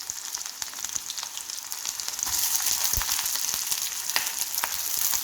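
Onions and green chilies frying in oil for a Tamil sweet potato dish, giving a steady, loud sizzle close by that swells partway through, with faint stirring and no talking.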